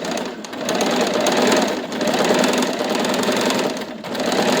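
A sewing machine stitches a buttonhole on a shirt with a loud, continuous mechanical whir that dips briefly twice, close and without speech.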